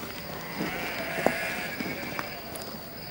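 Sheep bleating at a distance over a soft continuous background hiss, with a few faint calls and light knocks scattered through.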